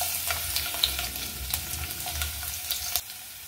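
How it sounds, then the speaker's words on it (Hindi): Carom seeds, asafoetida and finely chopped garlic sizzle steadily in hot oil, a close, continuous crackling fry with small pops and no talking. "तेल गर्म हो गया है, अब इसमें डालेंगे एक चौथाई चम्मच अजवाइन, दो पिंच हींग, तीन चार लहसुन की कलियां बारीक कटी हुई"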